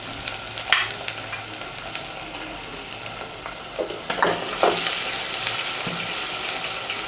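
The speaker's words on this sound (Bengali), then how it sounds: "কষানো হয়ে গেলে আমরা এর মাঝে আমাদের মাংসগুলোকে ঢেলে দিব।" Beef pieces tumble into spiced masala frying for a Bengali beef curry with chana dal, with a steady loud sizzle, a few sharp clatters, and scraping strokes as the meat is stirred through.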